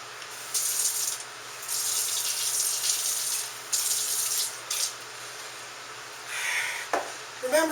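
Water poured into a bowl of cornstarch to make a thickening slurry for sesame chicken sauce, coming in several separate splashy bursts of pouring from a tap or cup, close and fairly loud, with no talking.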